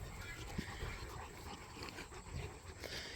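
A lively, excitable dog among a large group of dogs whimpers and yips in short, irregular bursts close by, over a busy, noisy background.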